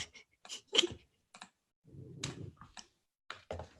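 Keys clack on a computer keyboard in short irregular bursts of typing, close and fairly quiet, with a low muffled rumble midway and no speech.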